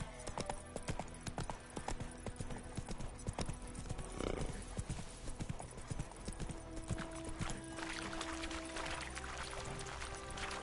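Roach the horse clip-clops steadily in The Witcher 3, a dense, brisk run of hoofbeats over a busy game background with no pauses.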